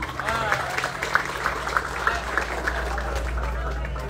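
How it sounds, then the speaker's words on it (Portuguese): Outdoor crowd applause at a political rally for a town councillor in Cipó, steady clapping with cheers over a continuous low hum, voices mixed in throughout. "Uma salva de palmas."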